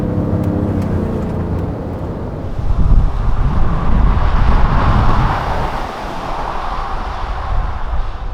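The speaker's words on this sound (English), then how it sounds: "Kia also have added sound generators, so let me demonstrate." A 2020 Kia Mohave SUV driving fast, its artificial engine sound generator producing a low droning hum beneath strong rushing wind and road noise, swelling louder midway.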